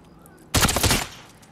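Two quick gunshots fired back to back in the video game Modern Warfare, a loud sharp pair of cracks with a short fading tail, alone without talk.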